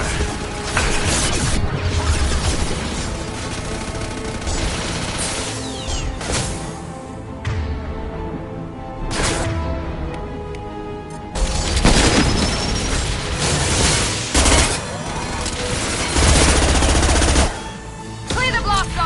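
Weapons fire and heavy booms in a Mass Effect 2 battle, loud and sustained with bursts of shots, crashes and mechanical noise across the whole span, under a dense game soundscape.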